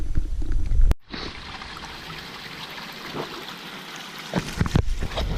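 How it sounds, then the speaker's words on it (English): Water running and trickling through a small multi-sluice set in a small creek while gold prospecting in Virginia, a steady close wash with a few splashy bursts after a brief loud thump at the start. "Alright, so we got a little multi-sluice running here"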